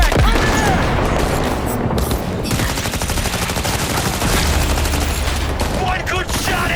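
Dense, loud automatic gunfire in the video game Cyberpunk 2077, sustained bursts with booming impacts filling the whole stretch, with no pauses.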